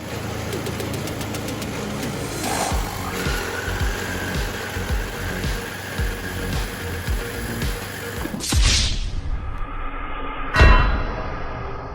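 Snow blower fitted with a rubber flap impeller modification, running with a rough, knocking small-engine chatter for several seconds before cutting off abruptly; a couple of loud thumps and clatters follow near the end.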